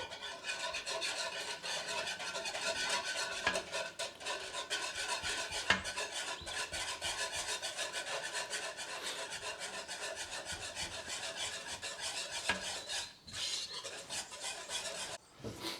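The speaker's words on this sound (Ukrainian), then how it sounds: "І потім змішується борошно до стану, ну, воно типу буде таке сметанкове." Flour gets stirred into a creamy batter for Easter bread (paska) with Baileys, cranberry and mango, a steady close scraping and rasping of utensil against bowl that runs continuously, with no talk.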